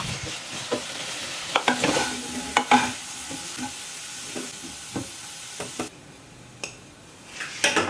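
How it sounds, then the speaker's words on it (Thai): Potatoes stir-fry in a pan with a soft sizzle, broken by repeated scraping and clattering of a spatula against the pan that comes in short irregular bursts, with no talking. "นำมันฝรั่งไปผัดก่อนเลยค่ะ"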